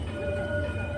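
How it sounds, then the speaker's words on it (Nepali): A metro train pulls into a station in Mauritius with a steady, close rumble and a faint high whine that holds constant throughout. "मेट्रोको इन्तजार गरिरहेको छु। मेट्रो पनि आइसक्यो।"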